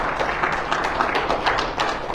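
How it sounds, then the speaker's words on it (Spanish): A church congregation applauding during a Sunday service: dense, steady clapping from many hands that continues evenly throughout, with no voices over it. "¿Cuántos dan un aplauso fuerte al Señor?"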